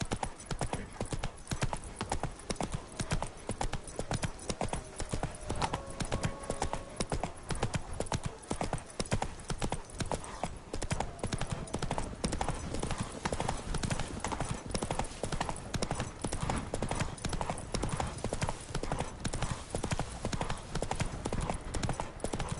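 Horse hooves clip-clop in a steady, fast galloping rhythm throughout, loud and close, as the rider's horse runs in The Witcher 3 video game, with brief game sounds layered in.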